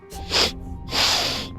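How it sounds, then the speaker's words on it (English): Two quick, loud sniffs from a video game character, close by, the second longer than the first, with a brief gap between them. "Could you stop sniffing like that?"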